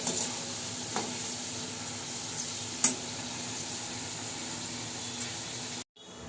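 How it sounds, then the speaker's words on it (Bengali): Moong dal fries in a pan with a steady, fairly quiet sizzling hiss and a few light taps of a spoon, close and continuous before the sound cuts off abruptly near the end, with no voices. "মুগ ডালটা এখানে ভেজে নিচ্ছি"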